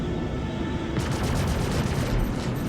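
Rapid bursts of spaceship cannon fire in the Star Citizen video game, a dense, steady barrage of repeated shots starting about a second in over a constant engine-like hum, with no talking.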